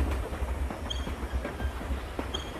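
Train rumble in a horror video game, a steady low rolling noise with faint clacking and a couple of brief high squeals, heard alone without talk.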